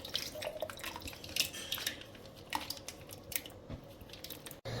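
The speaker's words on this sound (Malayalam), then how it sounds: "അപ്പം നമ്മുടെ തൈര് ഞാൻ ജാറിലേക്ക് ഒഴിച്ചു കൊടുത്തിട്ടുണ്ട്" Packet curd poured into a mixer grinder jar, giving quiet wet glugs, soft squishes and light clinks against the jar, close and faint with no talk.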